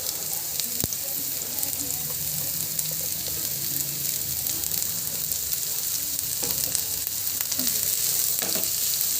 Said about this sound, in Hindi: प्याज को भून लेंगे अच्छे से।